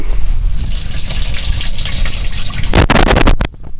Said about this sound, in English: Water's going in the live well.